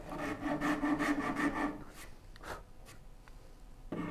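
A rasp works rhythmically across curved wooden cabinet parts held together, several quick rough strokes up close, then a pause with scattered scrapes and a final stroke starting.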